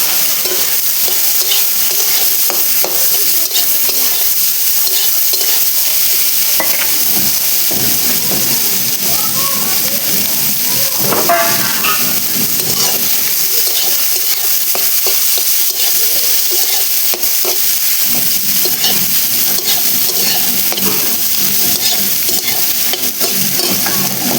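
Chopped onions, five medium ones, fry and sizzle in a pan of hot oil with cumin seeds while being stirred. The hiss is loud and steady and continues throughout, with scraping stir strokes over it.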